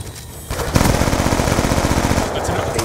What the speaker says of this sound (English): Sentry gun ready for deployment.